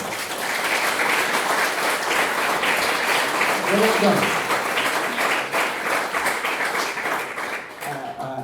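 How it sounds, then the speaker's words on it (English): An audience applauds a performer on stage at a sound system event in a public library, loud sustained clapping from a crowd with a voice speaking briefly over it. "Can we get some applause for you?"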